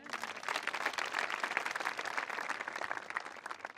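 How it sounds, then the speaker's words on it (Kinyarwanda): An audience claps at a commemorative gathering, a faint but dense patter of many hands that carries on evenly for a few seconds. "mukomere Imana amashyi."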